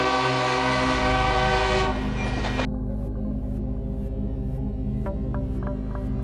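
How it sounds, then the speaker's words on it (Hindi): A train sounds a long, loud horn blast for about two seconds as it pulls into a station, over a heavy rumbling hum of the engine that continues after the horn stops, with a few faint clanks near the end. "ये रही ट्रेन की सीटी, लगता है आ ही गई।"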